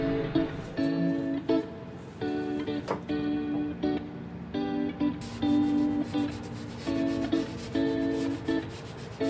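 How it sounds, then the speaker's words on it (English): A DA sander with 320-grit paper sands clear epoxy on the hardwood trim of a sailboat, a close, rough scrubbing rasp that comes in repeated strokes with short pauses between them. "go through the flat areas here with our DA sander at 320 grit"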